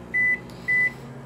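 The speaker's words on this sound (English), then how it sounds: "you just send it in the microwave for 2 minutes" A microwave oven heating oatmeal hums quietly while two short, high electronic beeps sound in succession.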